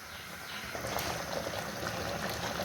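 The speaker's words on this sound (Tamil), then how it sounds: "தண்ணி நல்லா கொதி வந்துருச்சுங்க." Water boils in a pot with a steady, busy bubbling and hissing, close by and fairly soft.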